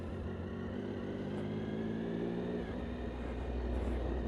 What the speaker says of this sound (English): Pulling my clutch so my bike doesn't make stupid amount of noise.